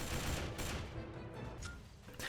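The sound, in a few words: gunfire and explosions in the video game Battle for the Pacific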